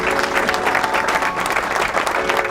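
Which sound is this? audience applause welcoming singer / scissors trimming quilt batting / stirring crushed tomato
audience applause welcoming singer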